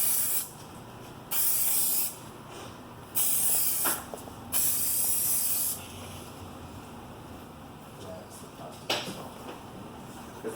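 A protective coating is sprayed onto a restored car headlight in short hissing bursts, roughly four close, loud passes of one to two seconds each, with quieter background noise in between.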